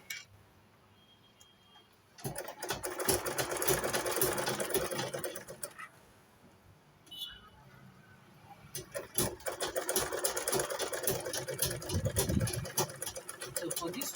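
A sewing machine top stitches a side pocket, running steadily in two long bursts with a brief pause between them, its fast mechanical ticking clear and close.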